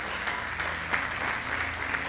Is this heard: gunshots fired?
no